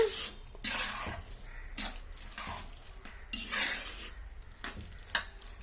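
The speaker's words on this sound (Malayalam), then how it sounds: "ഒന്നുകൂടി ഇളക്കിയിട്ട് നമുക്കിത് ഇറക്കി വെക്കാം കേട്ടോ" Spoon stirring papaya pickle in a pan, with repeated scraping sweeps and metallic clinks against the pan over a soft sizzle, steady and close throughout.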